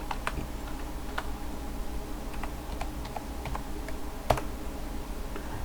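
Soft keystrokes on a computer keyboard as a password is entered, a sparse string of quiet clicks over a low steady hum, with one sharper tap near the end.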